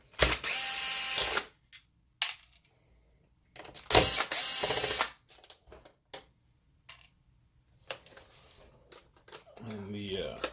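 Screws being removed from the top cover of an Optoma HD70 projector, heard as bursts of ratcheting screwdriver clicks with quiet pauses between them and a brief scrape near the end.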